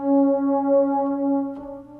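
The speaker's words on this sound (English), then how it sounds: "It's called Warm Mids Pad and it sounds like this." Warm Mids Pad preset from the pads and strings section of Omnisphere, a sustained warm synth pad chord holding steady and full for about two seconds, with a slight soft shift near the end, playing alone.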